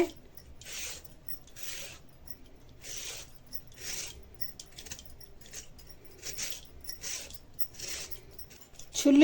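Red carrots cut into small pieces with a knife, a series of soft, evenly spaced crisp chops at close range, quiet, with a brief voice at the very end.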